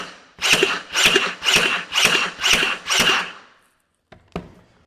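A Ryobi 18V One+ HP narrow crown stapler set to sequential fires six staples in a steady, quick rhythm of sharp mechanical thwacks up close, then after a short silence fires one more, with no talking.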